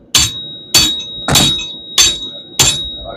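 A forging hammer draws out steel over a spring fuller with five sharp, ringing blows at a steady pace, each hit leaving a bright metallic ring that fades before the next.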